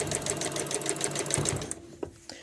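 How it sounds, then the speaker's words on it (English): A sewing machine stitches bias binding onto a t-shirt bag in a rapid, steady mechanical chatter for under two seconds, then stops, leaving a few soft clicks and handling sounds. "put the bias binding over it and sew over it."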